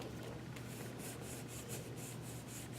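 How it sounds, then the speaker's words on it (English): A champagne foil sheet, embossed with a holly folder, is burnished onto card with steady, repeated rubbing strokes, close and continuous, against a constant background hum. "Now I'll kind of burnish the middle of it."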